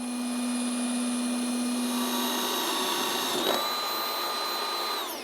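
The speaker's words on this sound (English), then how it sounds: "We're going to take our drill, make sure this thing is on" A power drill bores slowly through a pre-drilled hole during a Tottoms PRO Kit install, a steady close motor whine with a brief catch and pitch shift about two-thirds through, no talking.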